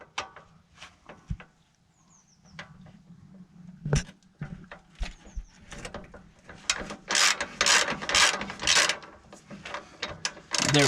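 A socket ratchet clicks in short bursts while working on a BMW F2x/F3x xDrive suspension during a lowering-spring fit, faint at first and then louder, rapid, close-up clicking near the end.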